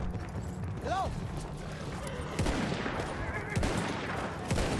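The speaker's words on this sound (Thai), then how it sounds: "เมื่อกี้เห็นปืนกลอยู่นะ ปืนกลตรงจุดเนี้ย" Bursts of machine-gun fire and other gunshots echo through a Battlefield 1 battle with German cavalry, mixed with combat clatter, explosions and game sound, while someone talks over much of it.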